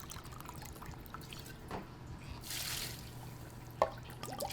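Vodka being measured out for a punch gives a faint, brief trickle and drip of liquid with a short splashy pour partway through, set against quiet room background.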